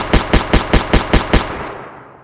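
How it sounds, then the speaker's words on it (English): Minigun from a Minecraft power armor mod firing seven evenly spaced, punchy synthetic shots in a fast burst, loud and close, followed by a short fading tail. "This is the minigun"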